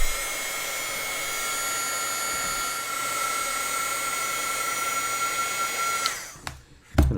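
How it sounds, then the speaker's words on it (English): A heat gun used during a McIntosh MC 2105 amplifier restoration blows with a steady, loud whirring hiss and a high whine for about six seconds, then cuts off amid a few handling clunks. "So I'm going to use my heat gun here."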